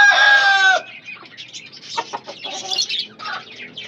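A loud, drawn-out squawk from a chicken, followed by scattered softer clucks and chatter from nearby roosters and hens.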